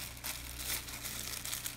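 A plastic bag holding a miniature Pleurothallis rubella orchid crinkles and rustles as it is opened, a close, continuous crackly rustle with small swells throughout.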